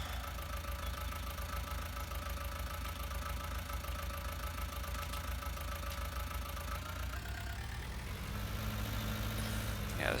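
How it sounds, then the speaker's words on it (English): A farm tractor engine idles with a steady rumble and an uneven, slightly knocking rhythm, continuous and nearby, then shifts in tone near the end; no talk. "this tractor isn't running the best"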